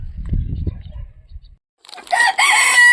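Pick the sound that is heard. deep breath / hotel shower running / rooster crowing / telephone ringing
rooster crowing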